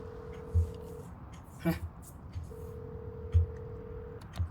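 Phone-booth keypad tones as a number is dialed in Devil May Cry 5: a long steady beep, a quick run of short dial tones, then another long beep, with low thumps and faint background sounds around them.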